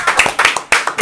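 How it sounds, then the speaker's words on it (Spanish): A studio audience claps at the opening of a comedy talk show: a brief, close burst of clapping mixed with voices talking over it. "Un fuerte aplauso, por favor."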